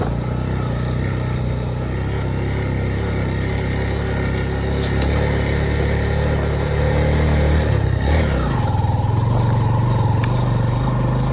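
Motorcycle engine running steadily along a rural road between Mibala and Mibolo near Iligan, a continuous mid-pitched drone with a pitch shift and rise in revs near the end, no talking.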